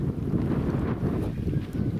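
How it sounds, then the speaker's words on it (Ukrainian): Steady, heavy wind buffets the microphone with a constant low rumble and roar, with no voices. "Похмуро сьогодні, вітер."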